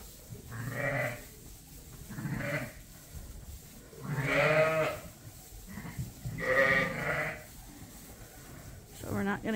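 A ewe on a sheep farm at lambing time bleats for her lambs, four drawn-out, wavering calls spaced a couple of seconds apart, close and clear against a quiet barn background.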